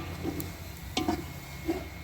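Onions browning in a pan for chicken haleem, with a faint steady sizzle and a few soft scraping stirs of a spoon against the pan, close and quiet with no talk.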